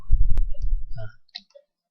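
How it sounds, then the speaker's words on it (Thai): Computer mouse clicks: a few sharp, isolated clicks near the end, after a louder low rumbling stretch, with no talking. "คลิกเมาส์ขวานะครับ"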